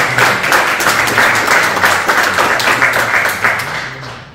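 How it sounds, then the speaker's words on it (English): Audience at an environmental justice summit applauds the panelists with close, energetic clapping in a hall, steady for about four seconds before fading out at the end. "So please give a round of applause for our panelists at this time."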